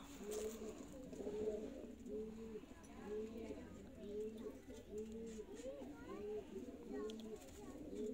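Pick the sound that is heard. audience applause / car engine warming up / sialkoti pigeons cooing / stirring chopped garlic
sialkoti pigeons cooing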